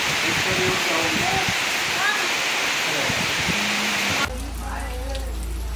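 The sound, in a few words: heavy rain and wind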